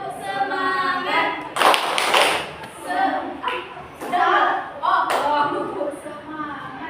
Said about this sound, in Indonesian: Ikuti kakak ya. Tepuk semangat.